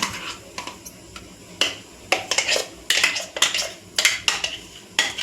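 Batter is scooped into a metal pot with a series of sharp clinks and scraping knocks of a spoon against the metal, irregular and close, about a dozen hits with short gaps between them and no speech.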